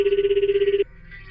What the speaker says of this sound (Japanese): ダメ元だけどモブミに電話してみるか